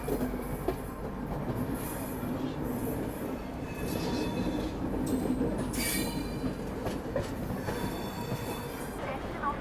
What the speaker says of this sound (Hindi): अगस्त क्रांति राजधानी एक्सप्रेस के लिए रूट क्लियर हुआ,